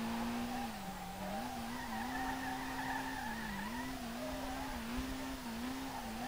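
Tires on an FD/D1GP-spec R32 drift car squeal steadily through a long slide in the SLRR racing game, with the pitch wavering slightly under a low engine drone. The sound is continuous and moderately loud, with no talking.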